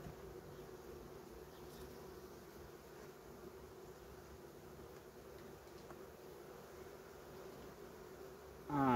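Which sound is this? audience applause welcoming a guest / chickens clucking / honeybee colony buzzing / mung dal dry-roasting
honeybee colony buzzing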